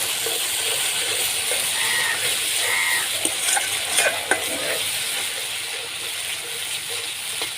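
A spice paste for dhokar dalna sizzles and hisses steadily in a hot pan while being stirred, with a few soft scrapes and taps up close.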